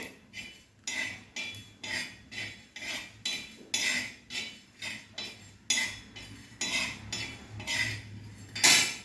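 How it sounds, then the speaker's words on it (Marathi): Coriander seeds and cloves dry-roasted in a pan without oil, stirred with a steady rhythm of scraping, rattling strokes against the metal, close and clear, with a brief clink near the end and no voices. "धने लवंगा वगैरे सर्व भाजून घ्यायचं आहे तेल नाही घालायचं मी सुक्कच भाजत आहे हे"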